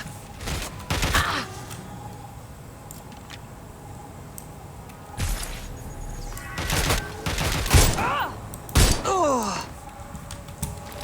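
Enemy gunfire in a video game firefight, scattered bursts of shots and thuds separated by quieter stretches, with a few louder impacts late on.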